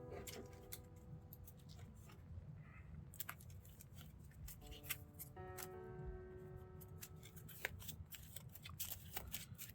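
A deck of cards is shuffled during a tabletop game, giving quick bursts of crisp riffling and snapping clicks, quiet and close, with soft tonal background music.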